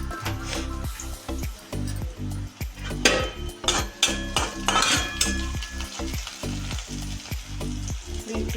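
Green chillies frying in hot oil with cumin and onion for a Maharashtrian potato bhaji, a steady close sizzle broken by repeated clinks and scrapes of a spoon stirring in the pan.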